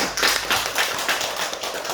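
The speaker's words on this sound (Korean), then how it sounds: "한번 박수 한번 쳐" Clapping from a congregation at a Korean Bible seminary gathering, a soft, continuous wash of hands at moderate distance with no voices over it.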